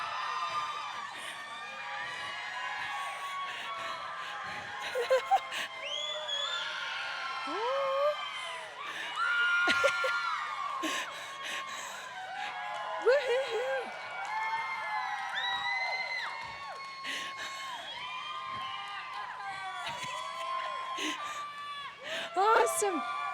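Audience at a junior livestock market lamb showmanship show cheering, whooping and shouting for exhibitors, sustained crowd noise with children's shrill yells rising in bursts, amplified announcer talk heard throughout.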